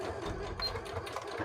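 Sewing machine stitching an embroidery piece into place, a brief close, steady mechanical whir with no talking.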